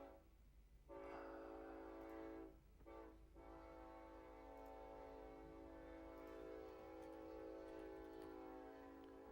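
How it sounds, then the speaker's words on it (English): A passing train outside sounds its horn in a long, loud, sustained blast with brief breaks, over a steady low rumble of the rail cars, with no voices. "the train's coming by again."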